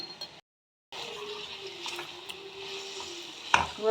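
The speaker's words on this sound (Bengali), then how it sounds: "ভালো করে একটু কষিয়ে নেব" Raw pumpkin and potato sauté with salt and turmeric, a soft continuous sizzle with stirring scrapes after a brief silent gap, ending in a sharper clink of the spoon against the pan.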